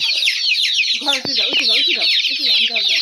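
Desi chickens cluck and chatter continuously, with a dense layer of broiler chick peeping throughout and a couple of sharp knocks in the middle.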